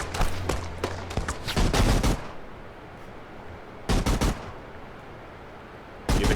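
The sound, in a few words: A-10 gun run strafing in a video game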